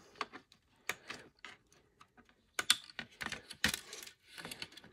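Cutters snip black and red wires out of a broken clock being gutted for craft supplies: a close, irregular run of sharp clicks and small snaps with brief quiet gaps, and no talking.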